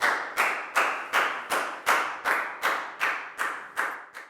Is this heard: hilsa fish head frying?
no